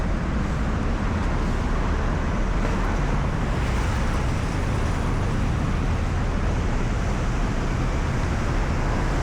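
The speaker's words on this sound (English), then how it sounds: "And the traffic's not even loud." Road traffic in a town street, a continuous low rumble of passing vehicles at moderate distance, steady throughout with no voices.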